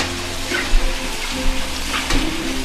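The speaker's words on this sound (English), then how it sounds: "We're gonna give my knives a rinse." Tap water runs steadily into a kitchen sink while knives are rinsed, a continuous broadband wash with a few soft clunks and splashes as the blades are moved under the stream.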